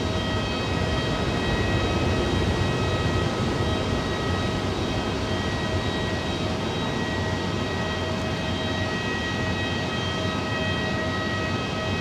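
Swiss Airbus A330 airliner on runway 18 at Zurich Airport, a loud, steady broadband jet engine roar holding constant throughout with faint high tonal whines on top and no talking.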